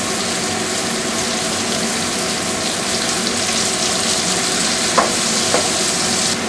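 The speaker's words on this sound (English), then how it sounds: "Now you want to cook the steak on both sides until no longer pink." Rib eye steak frying in a skillet with oil and butter, a loud continuous close sizzle throughout with a couple of faint clicks near the end.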